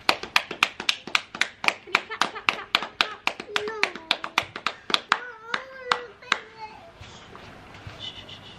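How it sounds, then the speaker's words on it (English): A small group of people at home clap their hands in a steady series of sharp, close claps for about seven seconds, with a voice and chatter running alongside before the clapping tapers off. "Let's clap first."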